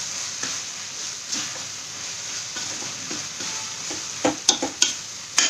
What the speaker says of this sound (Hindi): हाँ, इस तरह से हम दबाएंगे इसको